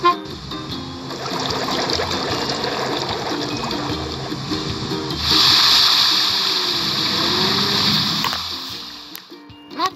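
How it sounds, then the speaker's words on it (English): A fountain filled with water in a children's truck-building video game runs with a steady splashing rush and trickle, getting louder and brighter partway through, over light background music. "Let's fill it with water and turn the fountain on."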